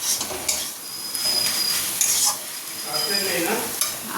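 Water spinach (kalmi shak) fries in a pan, a steady close sizzle broken by occasional scrapes and stirring strokes of a utensil against the pan.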